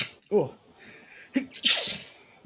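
A person sneezes sharply and close by during a movie watch-party commentary, followed by a second breathy burst, with brief talk around it.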